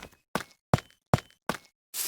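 Five crisp, evenly spaced footsteps on calcite blocks in Minecraft, each a short bright scrape-tap about every 0.4 seconds, close and clear, with a hissier step cut off at the end.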